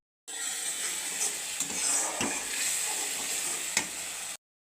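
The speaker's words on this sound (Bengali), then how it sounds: "এখন আমি দিয়ে দেবো উষ্ণ উষ্ণ গরম জল হালকা একদম বেশি দেবো না" Warm water poured into a pan of frying spices and dry chili powder for shrimp malai curry, giving a steady loud sizzle and hiss with a few soft stirring scrapes, no voices.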